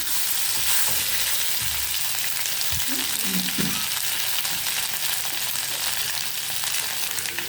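Pieces of colocasia (taro root) fry in hot oil in a pan with a constant loud sizzle and crackle, and a few soft clinks of stirring can be heard partway through.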